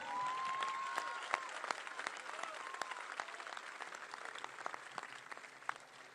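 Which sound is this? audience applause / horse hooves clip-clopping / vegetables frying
audience applause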